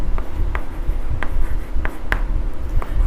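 A pen writes on paper in a steady scratching that runs through the whole clip, with small taps and strokes against low background noise.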